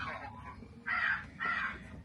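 Raven cawing at a Halloween event at a railroad museum, two loud harsh caws close together, with quiet background chatter.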